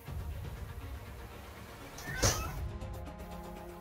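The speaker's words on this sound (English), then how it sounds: "My cat says hello." A house cat gives a single short meow in a cluttered indoor room, moderately close and clear over a steady background hum.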